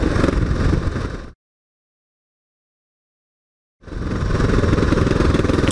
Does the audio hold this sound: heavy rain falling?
no